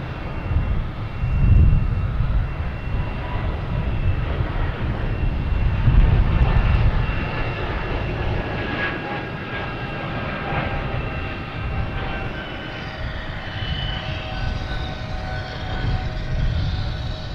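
JetBlue jet airplane at Boston Logan Airport, a broad, sustained engine roar rising and falling slightly as it passes at a moderate distance, steady throughout with no talk.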